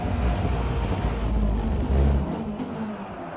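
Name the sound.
racing car driving in sim racing video game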